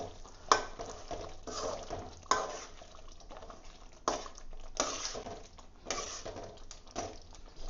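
Cooked spinach thokku (palak keerai) is stirred in a pan, soft scraping and wet squelching strokes repeating every second or so at a quiet, close level.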